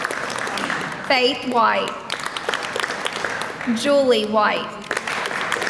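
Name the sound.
audience clapping for graduating seniors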